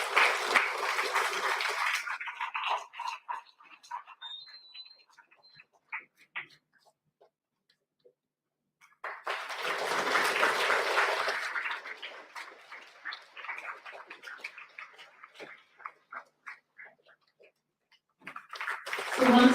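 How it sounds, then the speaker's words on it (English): Audience applause for the dignitaries on the dais at a Vidyarthy Vigyan Manthan state-level award ceremony in West Bengal, with two long bursts of dense clapping separated by quieter scattered claps and some talk. "again a very, very big round of applause to all the dignitaries on the dais"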